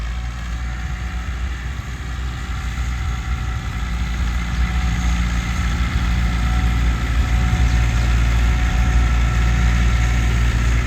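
A heavy tractor engine rumbles steadily up close while ploughing sandy maize land in a border village, its low droning chug growing slightly louder and continuing without a break.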